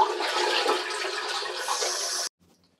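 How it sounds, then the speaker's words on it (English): A household toilet flushing to empty its tank ahead of a flapper replacement, a close, steady gush of draining water that lasts a couple of seconds and then stops abruptly, leaving near silence. "you're going to give the toilet one more flush to drain all of the water in the tank"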